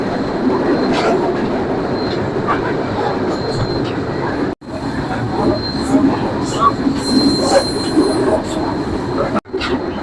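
A passenger train races through Bahadurpur railway station on the Natore to Hili line, recorded from inside: loud steady rail roar with wheel squeal and rhythmic clatter, briefly cut twice.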